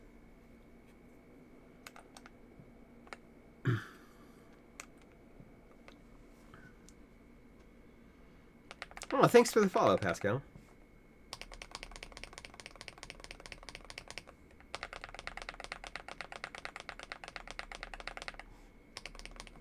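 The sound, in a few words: mechanical keyboard with Geon Raw switches being typed on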